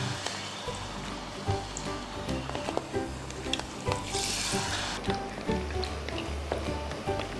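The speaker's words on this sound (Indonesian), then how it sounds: "Ini udah siap, kita tinggal goreng." Battered spinach leaves frying in hot oil make a dense, crackling sizzle with scattered pops and stirring clinks, close and steady throughout.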